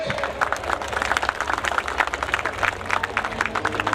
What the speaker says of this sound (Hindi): जोरदार तालियां हो जाए प्लीज।